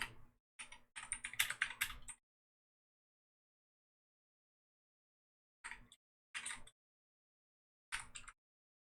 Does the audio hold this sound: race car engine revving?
no